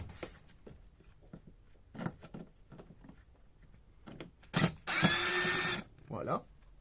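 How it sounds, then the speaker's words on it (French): A cordless screwdriver with a Phillips bit backs screws out of a Volkswagen Golf 6, giving one loud whirring burst of almost a second after quiet clicks and handling noises. "ce sont un embout cruciforme dans une visseuse"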